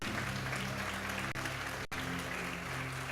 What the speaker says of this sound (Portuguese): Alguém pode aplaudir a Jesus?